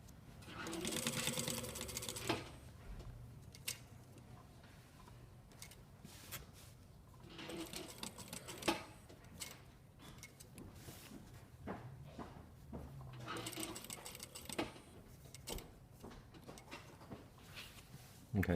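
A sewing machine stitches a shirt sleeve placket, running in three bursts of steady whirring separated by quieter pauses with small handling clicks, close and moderately loud.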